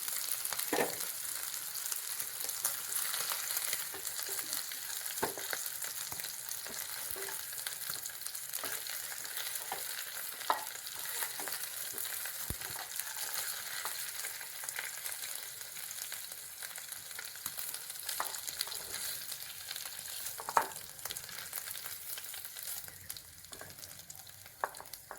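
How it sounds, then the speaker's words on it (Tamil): Chicken pieces seasoned with curry leaves, turmeric and salt fry in a pan, giving a steady, close sizzle with occasional pops and crackles and no talking. "ஒரு பக்கம் நல்லா ப்ரௌன் வந்துட்டு சிக்கன் நல்லா குக் ஆகிட்டு"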